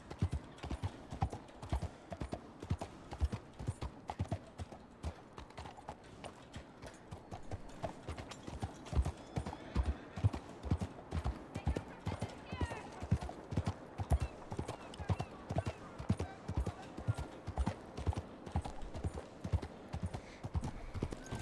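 Horse hooves clip-clop steadily in the Wild West game Red Dead Redemption 2, a fast, loud trotting rhythm that runs throughout, with talk around it and an occasional neigh.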